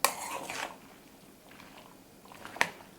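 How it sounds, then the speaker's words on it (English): A salad is tossed with vinegar, garlic and oregano, with a few light clinks of utensils against a bowl at the start and end and quiet mixing between them. "I want to give this a really good mix here"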